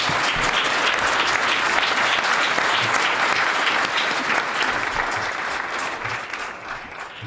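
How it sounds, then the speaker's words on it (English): Sustained audience applause fills a panel discussion room, a dense and steady clapping that carries on for several seconds before thinning slightly near the end. "I think that we want to give a round of applause to our moderator, Cathy Bennett."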